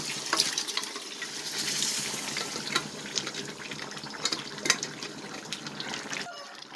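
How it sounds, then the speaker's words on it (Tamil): Vigorous bubbling and spattering of a thick spicy country-chicken curry boiling hard, a steady wet churning with scattered pops, close by and without talk. "வேகமாக தலை தலை தலன்னு கொதிக்குது"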